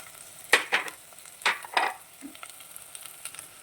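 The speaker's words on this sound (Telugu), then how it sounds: "క్యారెట్ వేసుకొని కొంచెం ఫ్రై చేసుకుందాం" Potatoes and carrots frying with onions, green chillies and cashews for a veg biryani, soft sizzling with several sharp stirring scrapes and clatters, no talk.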